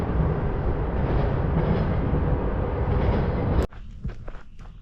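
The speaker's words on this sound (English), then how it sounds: "That is a long train." A long train passes steadily for several seconds, heard from a rural hiking trail with a shelter, as a continuous broadband rumble and rattle that cuts off sharply near the end, leaving quieter outdoor sounds.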